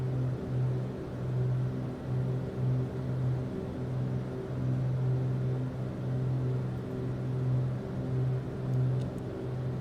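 Twin piston engines of a Beechcraft Duke cruising in a flight simulator game, a steady droning hum with a pulsing low tone, constant and even throughout, with no talking.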